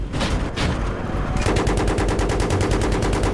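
Gunfire in the video game Battlefield 3: a loud, close burst of rapid automatic fire with an even machine-gun rhythm that runs steadily to the end.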